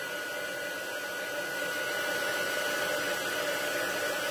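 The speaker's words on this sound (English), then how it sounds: "You might want to turn down your volumes for a minute while I just give this a blast. I'm going to melt the powder." A heat tool blasts steadily to melt embossing powder on a card-making project, giving a loud, constant whooshing hiss of blown hot air that runs the full length without speech.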